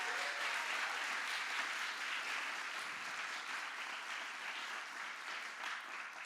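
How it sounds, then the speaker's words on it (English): A large audience at a TEDx event applauds continuously in a dense, steady wash of clapping that lasts throughout, fairly distant and even in level. "Can we please give her and her team another huge round of applause?"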